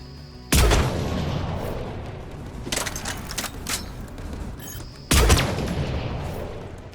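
Sniper rifle fire in Mass Effect while fighting Geth: two loud, sharp shots several seconds apart, each with a long echoing tail, alongside fainter distant gunfire between them.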